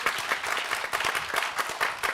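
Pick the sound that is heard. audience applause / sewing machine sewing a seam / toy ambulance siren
audience applause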